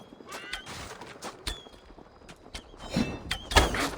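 Horses whinny and snort amid clattering hooves and thuds during a night siege in the video game Assassin's Creed Valhalla, a busy mix of effects that swells louder toward the end.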